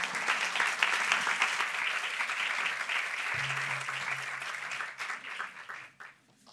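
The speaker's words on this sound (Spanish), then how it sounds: "Muy bien, un aplauso." Audience applause at a business conference event, steady crowd clapping that holds strongly, with a brief low hum entering midway, before tapering off to a few last claps.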